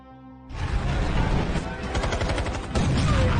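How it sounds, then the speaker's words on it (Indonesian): Rapid bursts of gunfire from an action movie shootout, loud and dense with overlapping shots after a brief quiet opening, continuing steadily throughout. "terjadilah baku tembak yang sangat epik"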